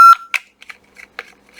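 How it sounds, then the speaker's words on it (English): An ADT alarm keypad beeps while its terminals are being wired: one sharp electronic tone at the start, followed by small scattered clicks and handling noises, close and quiet. "It's going to beep and scream at you"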